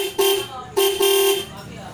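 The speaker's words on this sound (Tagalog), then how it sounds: "tayo ay magkakabit ng loud horn" Two loud horn blasts from a scooter's aftermarket loud horn, the second longer than the first, sounding close and harsh against a steady background hum.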